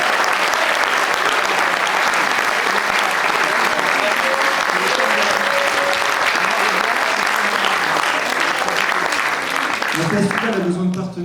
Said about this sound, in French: Merci d'applaudir les ambassadeurs, Faël, Alan, Ethan, Juliette et Jeanne.